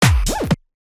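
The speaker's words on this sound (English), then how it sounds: "weird glitch and zip effect." A weird glitch and zip transition effect from an electronic track: a brief stuttering burst with a sharp rising-then-falling zip sweep, loud and alone, cutting off abruptly after about half a second.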